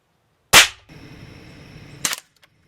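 A Daisy 880 or Ruger Air Hawk air rifle fires a single loud, sharp pop close by, followed by a steady mechanical hiss and rattle, then a second brief burst of noise.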